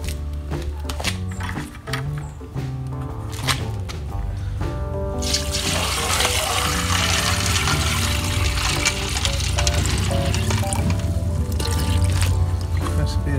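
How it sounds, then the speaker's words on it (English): Water pours steadily into a pot holding oxalic acid, a continuous splashing gush that swells and stays loud after a few seconds of clinking, with a voice heard at the start. "Add the water."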